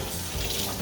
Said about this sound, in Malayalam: നമുക്ക് തക്കാളി കഴുകാം.